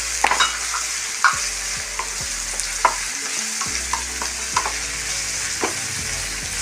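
Raw banana stir-fry with tomato frying in a pan, a steady sizzle broken by repeated scraping and stirring knocks, close and fairly quiet.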